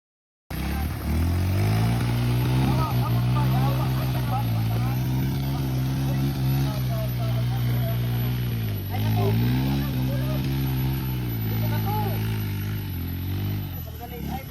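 A motorcycle engine runs loud and close at a steady idle, its low rumbling drone holding with small wavers throughout, with a voice speaking briefly over it.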